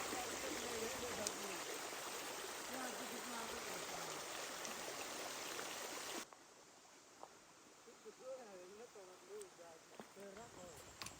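A forest stream on a jungle trek near the Kona waterfalls flows steadily, loud and close at first, then quieter and more distant after an abrupt cut, with faint bird calls and small knocks over the running water.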